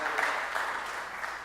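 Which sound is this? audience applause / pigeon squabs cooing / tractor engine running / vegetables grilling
audience applause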